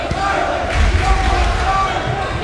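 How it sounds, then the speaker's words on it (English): Home fans in a gym roaring at a 2006 Sterling vs Haddonfield high school basketball game, a loud, sustained cheer under a commentator's voice. "These fans are going crazy."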